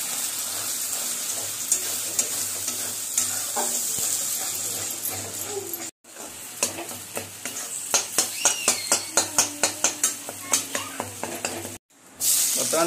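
Eggs sizzle in hot oil in a kadai while being stirred into egg bhujia, steady frying hiss broken by repeated scraping stirs and clanks of the spatula, with a brief pause partway through.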